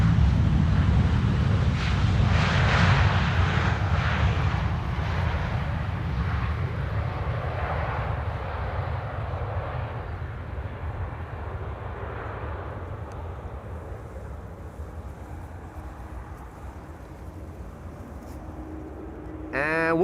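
A plane from Zurich arrives at Amsterdam Schiphol in gusty wind, its engine rumble loud at first and slowly fading as it passes, wind noise battering the microphone throughout.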